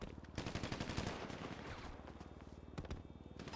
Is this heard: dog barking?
no